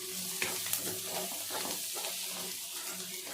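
Homemade paneer pieces and coriander leaves are stirred in a hot pan, with a soft sizzle under repeated scraping strokes of a spoon, close and fairly quiet. No one speaks.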